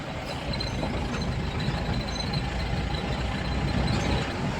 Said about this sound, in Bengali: প্রাইভেট কার আসছে